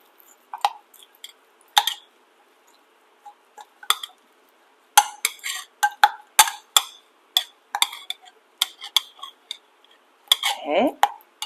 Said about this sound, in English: So I'm just stirring it.